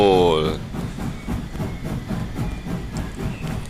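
A toy steam train's whistle sounds briefly, then a rhythmic chugging clatter rolls on steadily as it passes, fairly close and loud.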